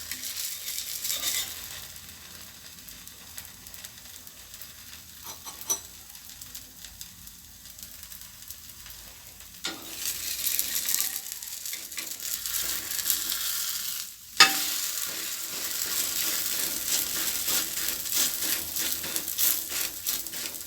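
A chapati fries in oil on a pan with a bright, hissing sizzle that drops and returns as it is turned, with a couple of sharp knocks of the pan or utensil.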